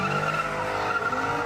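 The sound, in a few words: car tires screeching and engines revving at an intersection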